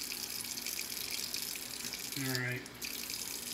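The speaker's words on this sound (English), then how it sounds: "See, the hot water is now kicking in." Hot water running steadily from a tap into a sink while records are being washed, a continuous close splash under brief talk.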